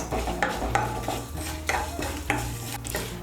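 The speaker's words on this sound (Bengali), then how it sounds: "মৌরি আর জিরেটাকেও ভেজে নেব।" Fennel seeds and whole cumin toast in a pan while a utensil stirs them, giving a few close scraping strokes over a faint sizzle and a soft steady background tone.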